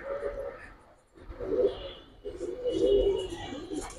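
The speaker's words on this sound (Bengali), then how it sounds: "দেখার মতো দুইটা কবুতর" Cooing from a pair of silver and coloured pigeons at a bird sale, several low rolling coos close by in a steady run, with faint background noise between them.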